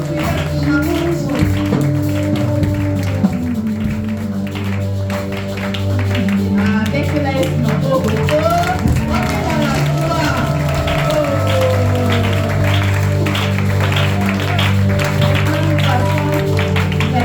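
A church congregation claps along at a closing ceremony, a steady patter of many hands under organ-like sustained music and voices throughout.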